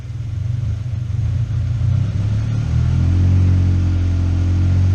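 A turbocharged Subaru BRZ with its check engine light on idles while warming up, a loud, close, steady low rumble that settles into a smooth, even tone.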